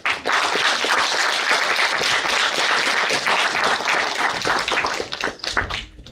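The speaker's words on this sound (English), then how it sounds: "Another round of applause to them." An audience at an official opening ceremony applauds, with dense, loud, steady clapping that thins out and fades near the end.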